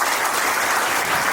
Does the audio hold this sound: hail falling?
no